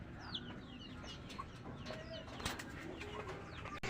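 Breeder chickens cluck and chirp faintly in a coop amid steady background noise, with scattered short calls and a few rustling sounds throughout.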